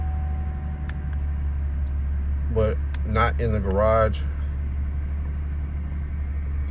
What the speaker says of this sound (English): I would leave my truck idling